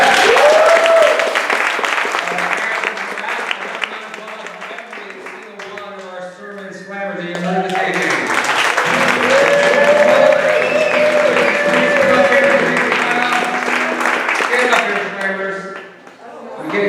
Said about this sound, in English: Another round of applause for Jeff